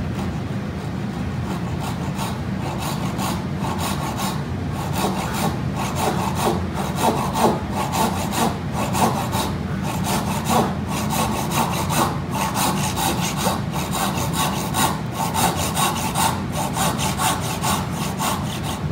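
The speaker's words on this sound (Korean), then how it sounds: "여기 그어진 선들 맞춰가지고 톱 넣어주죠." A hand saw rasps back and forth through wood, cutting along marked lines for a dovetail joint, with a close, continuous rhythmic stroking and no talking.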